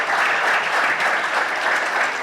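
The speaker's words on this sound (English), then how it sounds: "just a round of applause for the panelists for their contribution" Dense applause from a business summit audience, held for the panelists at the close of a session, a steady wash of many hands clapping together, loud and close, with no talk over it.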